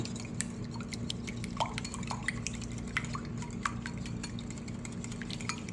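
Two eggs being broken up and whisked in a bowl before going into a batter for a summer side dish, giving soft wet clinks and scrapes with faint drips, steady and close, with no voices.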